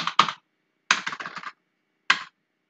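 Three short bursts of clicking computer keyboard keys, close and crisp, with brief silences between the flurries of keystrokes.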